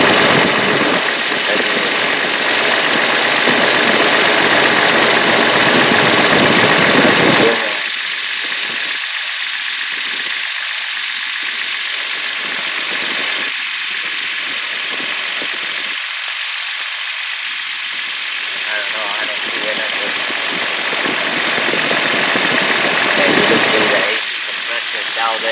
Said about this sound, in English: the AC compressor engaged right now